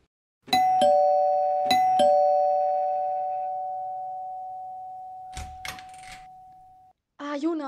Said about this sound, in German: Juna macht sich auf den Weg zu Lina und klingelt an ihrer Tür.